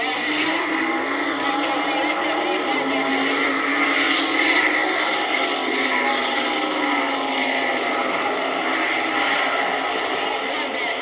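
Ramchargers Dodge drag racing cars launching at the 1971 Summer Nationals, a sustained loud engine roar with a rising and falling pitch under crowd and track ambience, heard from a distance.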